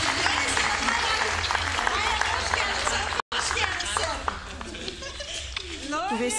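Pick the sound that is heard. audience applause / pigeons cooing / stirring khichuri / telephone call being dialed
audience applause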